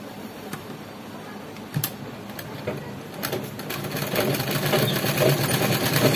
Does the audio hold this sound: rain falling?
no